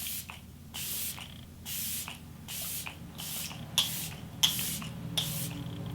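Makeup setting spray sprays in about seven short, evenly spaced mist bursts, each a soft close hiss, against quiet background hum.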